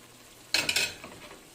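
Jicama pieces dropped into a pan of simmering chicken pastel, a sudden close splash and sizzle with a couple of quick stirring scrapes that fade out within a second; no talking.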